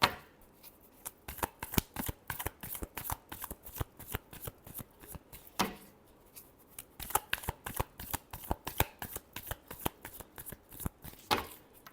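Tarot cards are shuffled by hand in a rapid run of crisp, close riffles and flicks, with brief pauses between bursts, quiet and alone throughout.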